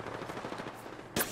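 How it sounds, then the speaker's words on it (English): Rapid automatic gunfire in a squad-based battle royale game crackles in a dense burst, closing with one sharp, louder shot at the end. "Shots fired, and they're hitting me."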